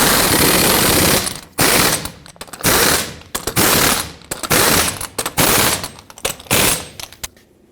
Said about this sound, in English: put back all 6 of your lug nuts, and torque them all down in a cross pattern to 150 foot-pounds